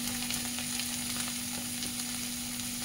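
Vegetables fry in a pan with salt, turmeric powder and a pinch of asafoetida while being stirred, giving a steady close sizzle and hiss throughout with no talking.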